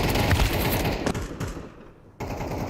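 Rapid AK rifle fire rattles in a dense, continuous burst during a Counter-Strike match, loud and close, briefly thinning before another sharp volley resumes.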